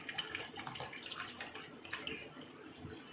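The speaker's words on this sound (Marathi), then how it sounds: "हेच बाउल भरून आपल्याला पाणी घ्यायचं आहे" Water runs from a tap and splashes into a bowl, a quiet steady pour with small splashy bursts.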